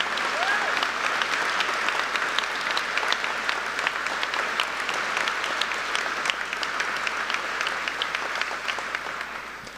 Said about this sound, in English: Can I have all the elected and past please stand up for a round of applause?